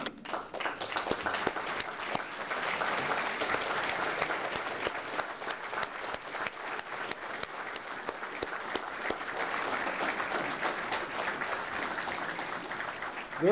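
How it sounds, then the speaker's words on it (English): Dinner guests at a city public safety awards event give standing police and firefighters a big round of applause, a sustained, moderately loud crowd clapping with scattered sharper claps and a slight swell midway, with no talk. "let's give them a big round of applause"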